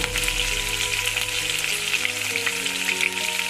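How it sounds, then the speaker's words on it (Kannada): Ginger garlic paste spluttering in hot oil for egg bhurji, a steady, close, dense sizzle with crackling that keeps going throughout, no talking. "ಸ್ವಲ್ಪ ಸಿಡಿಯುತ್ತೆ"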